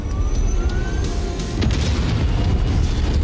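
Particle cannon fire in MechWarrior 5 lands as heavy booming explosions, a loud, dense low rumble with sharp bursts and a rising whine, sustained across the stretch.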